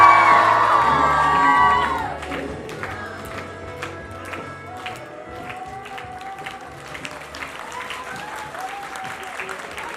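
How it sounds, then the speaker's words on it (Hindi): Audience at a school annual function in Shimla breaks into loud applause and cheering, with children shouting and whooping, strong at first then easing to a steadier clapping that continues through the end. "जोरदार तालियां।"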